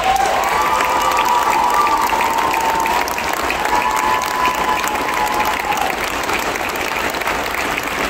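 An audience at the Southern Palace Christmas show at Six Flags Over Texas applauds standing veterans and service members, a loud, dense round of clapping that holds steady for about eight seconds and eases slightly near the end.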